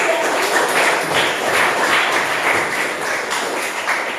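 A classroom of students applauds all the groups together, a dense, steady patter of many hands clapping at close range, continuous and even for the whole stretch.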